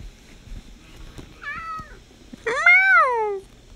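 Two cat meows, a short one followed by a louder, longer drawn-out meow, close by with little else around.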